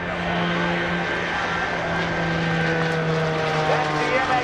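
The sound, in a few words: MXS aerobatic plane flying by at airshow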